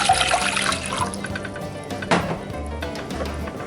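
Water poured into a jar to make brine for garlic dill refrigerator pickles, a steady splashing stream running close and fairly loud for several seconds with a few clinks.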